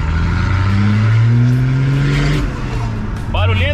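Noisy pickup truck revving: loud, close engine with rising and falling harmonic tones that climb, dip and surge again, while people talk over it near the end.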